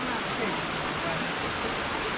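The River Bosna in Sarajevo rushes past in a dense, steady roar of flowing water, loud and close, with no break or change in level throughout.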